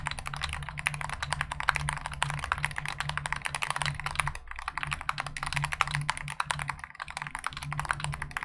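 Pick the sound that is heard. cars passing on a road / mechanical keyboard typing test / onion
mechanical keyboard typing test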